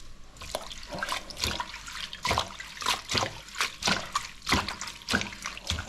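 Tap water running over parsley being washed in a sink, a close trickling stream broken by repeated splashy bursts as the leaves are rinsed.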